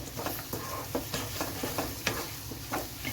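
Chopped onions sauté with a pinch of salt in a pan for a creamy malai chicken curry, giving a soft, steady sizzle broken up by irregular stirring scrapes and clinks, close and moderately quiet with no talking.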